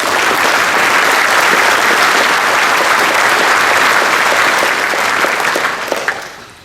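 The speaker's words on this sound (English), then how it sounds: "Give them a big round of applause." An audience at a Ranger Hall of Fame ceremony gives a sustained round of applause, loud and even throughout, before it thins and fades in the final second.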